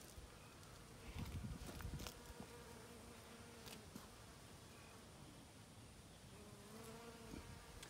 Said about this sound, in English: got a few bees feeding in the flowers.